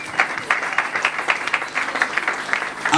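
A church congregation applauds during a worship service, with dense, steady clapping that carries through the whole moment at fairly close range.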